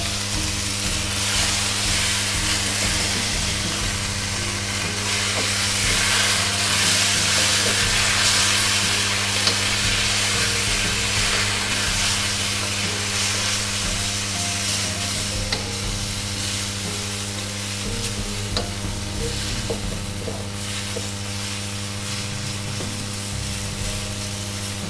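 Beef, sauce and wide rice noodles sizzle loudly in a hot pan while being stir-fried for beef chow fun with onions and bean sprouts, a dense, steady hiss and crackle that continues throughout with no talking.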